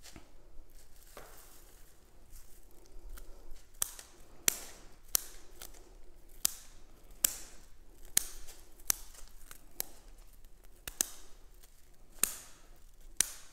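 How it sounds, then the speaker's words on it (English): Sharp snipping clicks from scissors cutting plant stems for a festive wreath repeat at irregular intervals, crisp and close, over faint background hiss. "Need a good pair of scissors as well."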